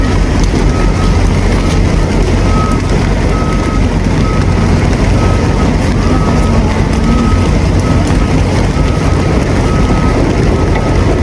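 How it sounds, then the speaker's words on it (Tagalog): A river boat crossing near Angat, Bulacan drones steadily with a motor hum under heavy wind buffeting on the microphone, loud and continuous for about eleven seconds with a faint tonal whine riding on top. "At ayun na nga yung bangka"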